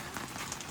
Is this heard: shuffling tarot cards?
no